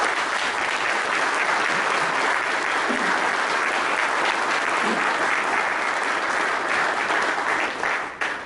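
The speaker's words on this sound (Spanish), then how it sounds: "quisiera pedirles el aplauso aquí a los panelistas" Conference audience applauding the panelists at the close of an international congress panel, dense continuous clapping at steady loudness that cuts off abruptly near the end.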